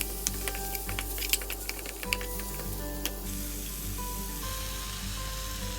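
Chopped tomatoes sizzle as they are stirred into spiced oil in a pan for a South Indian fish curry, a steady close frying hiss with small scraping and clicking stirring sounds, no talking.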